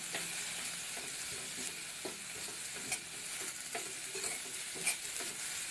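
Sautéed vegetables with chili flakes, black pepper and mixed herbs being stirred in a hot pan for mayonnaise pasta, a continuous close sizzle broken by regular spoon scrapes and taps.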